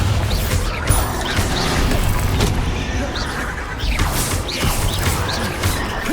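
Bombarda spell blasts in the video game Hogwarts Legacy: a series of crashing, smashing impacts and whooshes over steady rumbling game noise, with a voice talking underneath.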